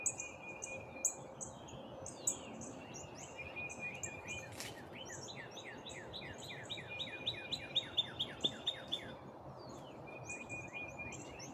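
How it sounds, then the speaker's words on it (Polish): Morning birdsong fills the air: several birds trill and chirp repeatedly in quick, bright phrases over a soft outdoor hush, some near and some farther off, with no talking. "nagram wam, jak natura się odzywa tutaj z rana"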